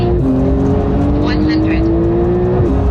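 A tuned Porsche 992 Carrera with a 3-litre engine accelerates hard, its engine note climbing steadily into a loud, sustained roar that cuts off abruptly near the end, with a voice speaking over it.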